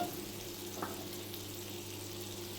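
Butter heating in a kadai on a gas stove for a dhaba-style kaju paneer butter masala, a steady soft sizzle with a brief clink partway through, continuous and close.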